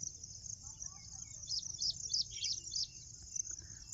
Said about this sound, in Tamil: அங்கே 2 குருவி, இங்கே 2 குருவி, எல்லாம் ஜோடி ஜோடியாக உட்காந்து சாப்பிடுதுங்க.